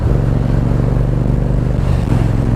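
A motorcycle's exhaust note rumbles loud and close while riding on a mountain road, a low steady throb that swells slightly near the end.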